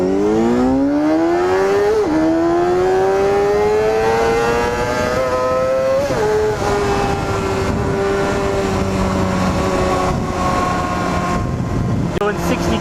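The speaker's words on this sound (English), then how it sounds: "it sounds like you're on a freaking 600 with a nice exhaust" A Honda CBR250RR 250cc sport motorcycle engine revs high while riding, its rising and falling pitch sweeping up through gear changes, loud and close throughout, with wind noise and a rider's voice over it.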